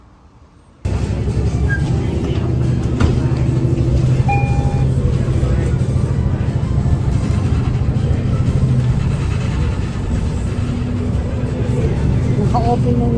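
A moving bus in Canada on a cold, windy day with its side heater running, a loud steady cabin rumble of engine, road and blowing air that starts abruptly after a quiet second and continues unbroken.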